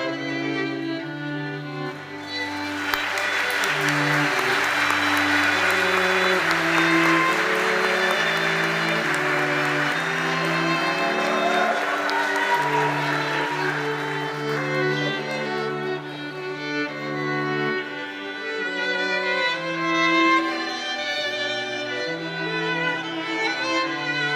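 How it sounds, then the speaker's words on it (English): Audience applause at a University of Pittsburgh white coat ceremony, a broad wash of clapping that rises early and fades by the middle while sustained music plays throughout. "please hold your applause"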